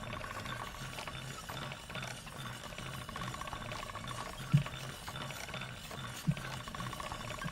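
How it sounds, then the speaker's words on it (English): In a video game, an item is ground against a grindstone with a continuous ratcheting, mechanical rasp and two sharper clicks near the end, steady and moderately close. "I'm just gonna sit here and grind it against this stone for a while to destroy the quality of it."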